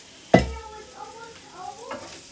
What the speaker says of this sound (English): I'm going to add my spices